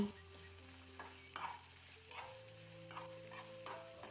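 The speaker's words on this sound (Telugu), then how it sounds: "పొడిగ్గా కట్ చేసిన ఎరగడ్లు రెండు రెమ్మల కరివేపాకు వేసుకుని ఫ్రై చేసుకోవాలండి" Dried red chillies, chopped onions and curry leaves sizzle steadily in hot oil as a Rayalaseema-style tempering, a close, continuous fry with occasional stirring scrapes and brief crackles.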